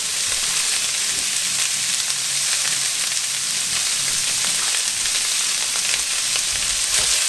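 Potatoes, salami and peppers fry in a pan with a loud, steady sizzle, a dense crackling hiss that lasts throughout with no one talking.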